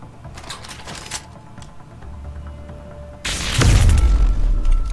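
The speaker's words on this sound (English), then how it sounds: "wait, I have a peps gun" A PEPS gun blast hits a wall in Deus Ex: Human Revolution, a sudden loud, deep boom with a rumbling low tail after quieter clicks and ambient game sounds.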